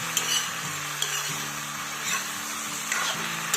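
Vegetables frying in a pan for a simple fish curry over a high gas flame, with a steady sizzle and a few light stirring scrapes, close and moderately loud, no talking.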